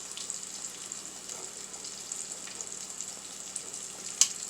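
Chicken nuggets frying in hot oil, a faint, steady high sizzle with small crackles and one brief sharp pop near the end, with no voices.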